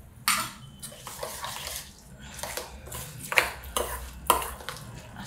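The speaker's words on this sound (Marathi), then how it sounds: "हलवून घेते" A spoon stirs curd rice in a pan with soft, scraping strokes and light clinks in irregular bursts, close and moderately quiet.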